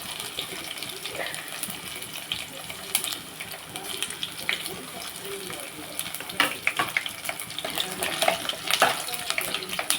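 Garlic sizzles in hot oil as a tempering for brinjal-mango dal, a steady hissing spatter, the crackles growing busier and louder toward the end.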